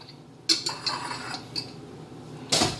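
A spoon clinks against a pot as salsa is stirred into zucchini and squash soup, with a few separate light scrapes and taps spaced out over a quiet background.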